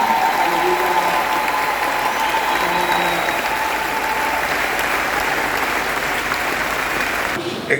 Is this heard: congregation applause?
yes